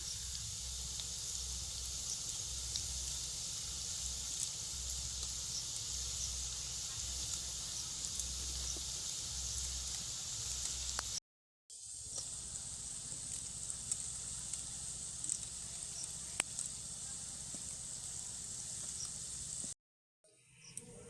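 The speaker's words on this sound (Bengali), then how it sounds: "সবগুলো বল আমি তেলের কড়াইতে দিয়ে দিয়েছি এইবার এগুলো হালকা আছে লাল লাল করে ভেজে নেব" Potato and Maggi snack balls fry in hot oil in a wok: a continuous, faint, even sizzling hiss runs throughout, broken by two brief silent cuts, with no talk.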